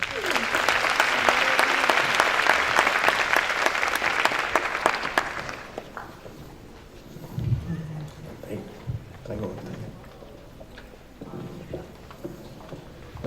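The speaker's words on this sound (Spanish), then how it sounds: "Un aplauso, por favor." A conference audience claps steadily and loudly for several seconds, then the applause fades out into quieter room noise with a few scattered sounds.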